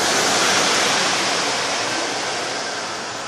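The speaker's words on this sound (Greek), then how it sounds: "Και από εδώ δημιουργούμε ατμό." Steam hissing out of a bakery bread oven, a steady broadband rush held close and loud for the whole stretch, easing only slightly toward the end.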